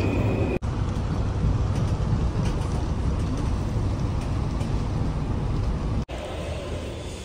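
Steady rumble and hum of a tram ride in Budapest, a continuous rolling interior noise with no talk over it.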